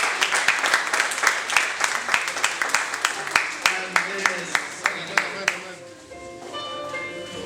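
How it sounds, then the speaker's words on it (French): A seminar audience at a gospel professional gathering in Togo claps in a quick, steady rhythm, loud and close. The applause stops near the end and a quieter room tone with faint tonal sounds follows. "Est-ce qu'on peut acclamer?"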